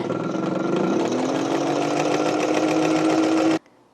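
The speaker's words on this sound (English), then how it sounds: "Now let's see if we can get this machine to sew." A sewing machine runs at a steady, loud, continuous whir with a rapid mechanical chatter, its pitch rising slightly partway through, then it stops abruptly near the end.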